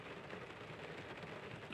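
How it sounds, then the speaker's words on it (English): Heavy rain pours steadily onto a parked car, a dense, even hiss of drops drumming on the roof and windows, heard from inside at low volume. "pouring with rain"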